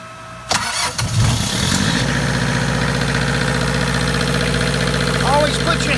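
A Burger motor yacht's marine diesel engine cranks and fires after a preheat, then settles into a loud, steady idle that carries on unbroken to the end, with a knocking, rumbling tone close by.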